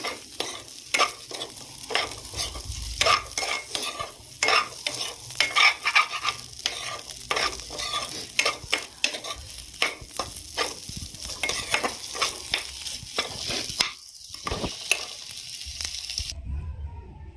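Chicken Maggi noodles with chopped spring onion are stir-fried in a pan. A spatula scrapes and stirs in a steady rhythm over a soft sizzle, close up, then it stops abruptly near the end.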